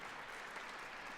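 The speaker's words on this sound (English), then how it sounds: "I will take an applause for the land acknowledgement." An audience applauds a land acknowledgement at a city cultural evening, a steady, faint wash of clapping heard from a distance for about a second.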